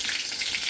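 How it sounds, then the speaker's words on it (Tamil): Mushrooms frying in hot, splattering oil, giving a brief, close, steady hiss of sizzling with no talking. "எப்படி எண்ணெய் தெரிக்குது"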